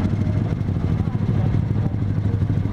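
A Kawasaki NSR 150 motorcycle engine rumbles steadily up close, its exhaust putting out a low, throbbing drone with some rattling clatter.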